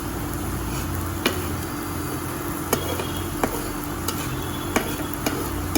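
Potatoes fry with a steady loud sizzle in a pan, punctuated every second or so by sharp clicks and scrapes of a spoon stirring against the metal, with no talking.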